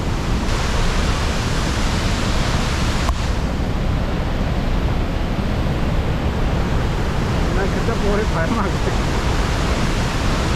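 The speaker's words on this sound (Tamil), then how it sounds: "தண்ணி அடித்து எழும்புற அந்த என்ன சொல்கிறது அந்த புழுதி மாதிரி அப்படியே அடித்து எழும்புது" Deep water crashes and churns, throwing up spray with a constant, loud roar like a waterfall or heavy surf that fills the whole stretch, with faint voices partly buried beneath it.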